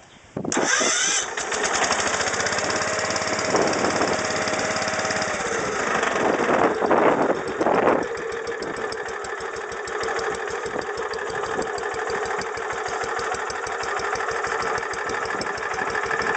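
A 16-horsepower Kohler K engine on a Wheel Horse C125 garden tractor cranks and catches, runs loud and rough for a few seconds, then settles into a steady, close idle with a faint rapid knock.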